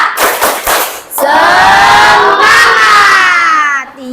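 Schoolchildren in a classroom clap in quick bursts, then break into a loud, sustained group chant and shout together, the voices fading toward the end.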